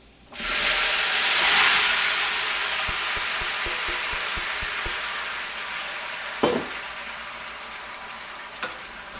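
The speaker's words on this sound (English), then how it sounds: "now we're at the perfect caramelized sugar level. Now we're gonna add our oxtail." Oxtail dropped into hot caramelized sugar erupts in a loud, steady sizzle and hiss, with light stirring clicks through the middle and a couple of sharp pops toward the end.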